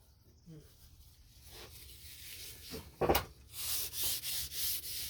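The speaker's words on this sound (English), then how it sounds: "I might just burnish it. See how that goes." A wooden axe handle being burnished by hand, first a faint scuffing, then a knock and a run of loud, even rubbing strokes near the end, with no talk.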